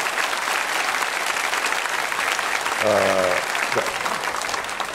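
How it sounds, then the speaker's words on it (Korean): A church congregation applauds throughout to welcome its officers, with steady, dense clapping and a brief voice rising over it midway. "임원들 박수로 우리 환영합시다"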